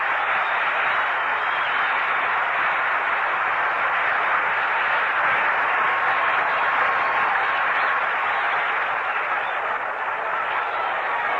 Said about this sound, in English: A round of applause for Roebuck